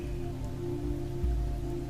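Rain falls steadily on the ground and patters on fabric overhead, a soft, even wash of droplets with no voices and no breaks.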